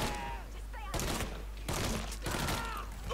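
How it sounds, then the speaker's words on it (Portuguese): Rapid bursts of gunfire in the video game Mafia III, several loud volleys of overlapping shots in quick succession, broken by short gaps, with a voice speaking at the start. "Um gajo atrás de mim a dar-me tiros"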